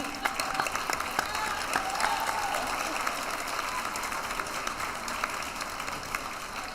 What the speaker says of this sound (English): Now, you all don't clap too much.